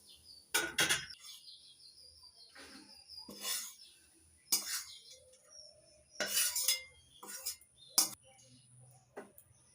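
Fried onion and grated coconut scraped from a pan onto a plate, making a series of sharp metal spoon clinks and scrapes in separate bursts, close and fairly quiet.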